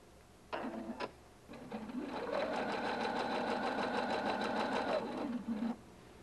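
A Husqvarna Viking Designer 1 sewing machine runs in a short burst, pauses, then stitches steadily for several seconds with a fast, even mechanical whir before stopping, close and clear.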